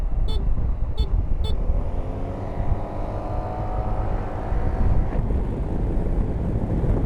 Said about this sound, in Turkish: Üçüncü korna.